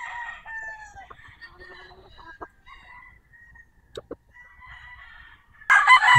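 Rooster crowing on a gamefowl farm, several drawn-out calls at moderate distance with scattered clucks, then a louder, closer burst at the end.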